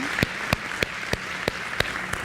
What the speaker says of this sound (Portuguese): por isso até merecem uma salva de palmas,